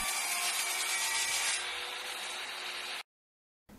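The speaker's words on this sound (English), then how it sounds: "The wood was cut down the center, and then the broken edge was cleaned off." A wooden board for a homemade sketch easel is cut lengthwise, a steady loud, close rasping saw noise lasting about three seconds, then a brief silence before the sound resumes.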